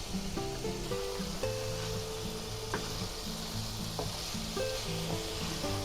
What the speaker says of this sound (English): Now just stir fry the cucumbers for about another minute or 2 and it should be done.